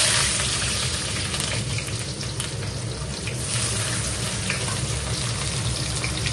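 Onion frying in hot mustard oil with panch phoron, a dense, continuous sizzle and crackle heard up close with no talking.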